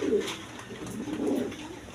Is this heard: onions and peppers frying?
no